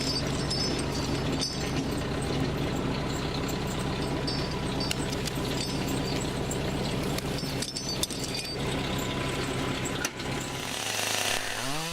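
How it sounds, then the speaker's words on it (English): A winch hauls logs toward a trailer during firewood harvesting, its engine droning steadily and mechanically with a dense, even rumble that holds for nearly twelve seconds, pitch shifting slightly near the end. "Pull this rope, engage the clutch and the winch."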